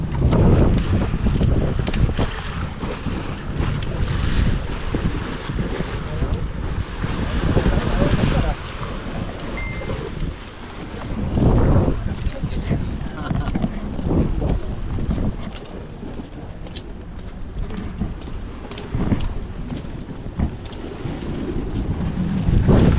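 Outboard boat engine running on Taal Lake, a steady low rumble under wind buffeting the microphone and lapping water, with occasional voices in the background.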